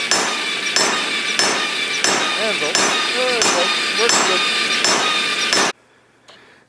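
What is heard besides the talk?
power hammer forging metal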